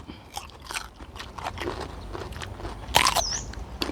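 Crunchy snack bitten and chewed up close, with a series of short crackling crunches and one louder bite near the end, over quiet background noise.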